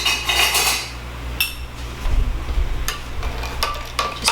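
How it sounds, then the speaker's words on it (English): A spoon clinks against a bowl while gently stirring a yeast and sugar mixture for old-fashioned cinnamon rolls, with a handful of sharp, close metallic taps scattered among quieter scraping. "Just going to gently stir this up."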